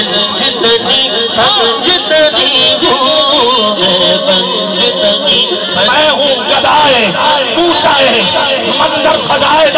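Crowd at a naqabat recital chants religious slogans in unison, loud and dense with many voices layered over music and reverberant sound, continuous throughout.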